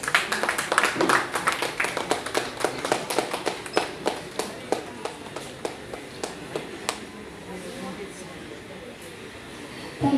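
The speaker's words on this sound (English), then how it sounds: "Can we have another big round of applause?" Sparse clapping at a book launch, a few hands slapping in a loose rhythm that gradually thins out and fades, with voices faintly underneath.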